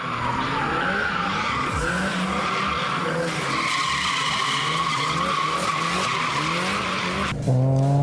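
Japanese drift cars slide on public roads with loud, sustained tire squeal over revving engines, the skidding continuous and close before a final engine surge at the end.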